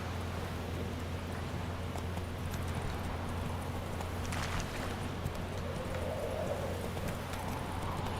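A horse gallops in The Witcher 3 game. The rapid hoofbeats are buried under a steady, dense wash of wind and ambient noise with a low hum, and stay continuous and fairly faint throughout.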